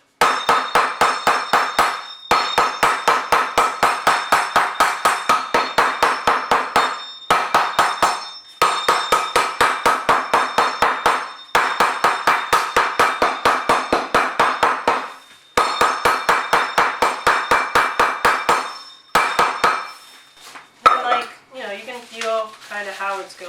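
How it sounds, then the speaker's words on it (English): A measuring cup repeatedly bangs on a bar of chocolate to break it up, loud rapid rhythmic thumping in bursts separated by short pauses, ending with a few scattered knocks. "take your trusty measuring cup and just beat the crap out of it."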